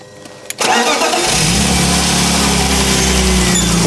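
A BMW 320i petrol engine cranks and catches after a short quiet lead-in, then settles into a steady, loud, close idle with a low rumble for the rest of the clip.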